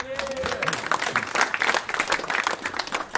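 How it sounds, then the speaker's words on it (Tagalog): Audience applause at a Filipino rap battle venue, a dense crackling wash of many hands clapping with crowd voices mixed in, moderately loud and sustained. "Pengen naman ng malakas at malutong na palakpak."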